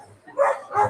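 A dog gives two quick, close barks in rapid succession, loud and short, with no talking over them.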